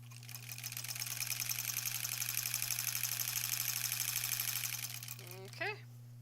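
Sewing machine stitching quilt blocks, a fast even needle rattle over a steady motor hum, running for about five seconds before stopping, then a short voice is heard.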